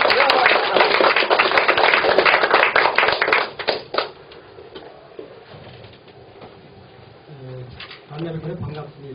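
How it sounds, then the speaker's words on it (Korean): An audience at a lecture hall applauds to welcome a speaker, with dense clapping for about four seconds before it thins out, followed by a voice speaking near the end. "박수로 맞이해 주시기 바랍니다."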